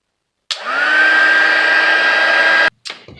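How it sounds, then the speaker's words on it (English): A heat tool drying Brusho watercolor crystals on a card, switching on abruptly into a loud, steady whirring blow with a high whine for about two seconds, then cutting off with a short clatter. "then I'm going to use a heat tool to dry it"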